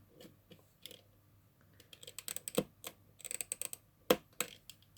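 A hobby X-Acto knife slicing at a small plastic tab on a Choro-Q Honda S-MX toy car, giving a run of close, sharp clicks and scratchy snips with a couple of louder cracks, no talking.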